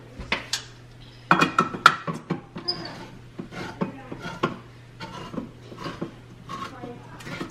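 Can of tomatoes being opened in a home kitchen while soup cooks, a run of sharp metallic clicks, scrapes and clanks in an uneven rhythm with some louder bursts, close up, with a low background hum.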